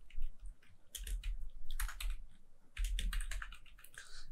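Keys clatter on a computer keyboard in quick bursts of typing separated by short pauses, close and fairly quiet, with no talk.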